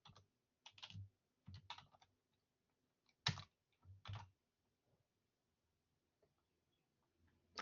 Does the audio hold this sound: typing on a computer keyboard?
yes